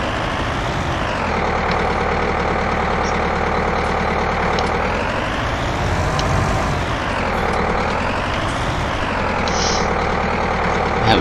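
A tractor engine in the Farming Simulator 19 game drones loudly and steadily for the whole stretch, its pitch rising and falling in slow waves as the engine revs up and eases off.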